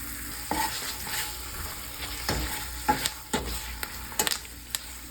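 Thyme stirred through a sizzling pan for a whiskey-glazed salmon dinner, a steady close fry hiss broken by a series of sharp spoon scrapes and clicks against the pan, no talking.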